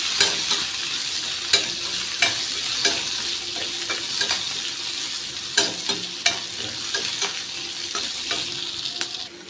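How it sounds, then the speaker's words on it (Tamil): Garlic, green chillies, curry leaves and ginger sautéing in a pan, giving a bright, steady sizzle punctuated by irregular clicks and scrapes of a spoon stirring, close and with no speech. "இதை நம்ம வதக்கிடுவோம்."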